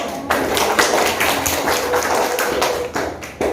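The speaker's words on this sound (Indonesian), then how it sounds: "Ya, tepuk tangan dulu." Children in an Indonesian classroom clap their hands together in a loud, fairly rhythmic patter of claps close by, continuing steadily before trailing off.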